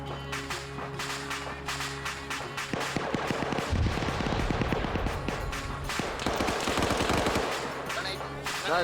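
Automatic gunfire in the video game Arma 3, rapid bursts of machine-gun fire and scattered shots at mid distance over an ongoing game soundscape, with a voice heard briefly.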